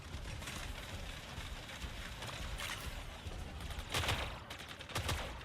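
Mortar fire in the Mech Arena video game: a dense, continuous crackling barrage of rapid impacts and rattling, with a few louder bursts near the end, steady and moderately loud throughout.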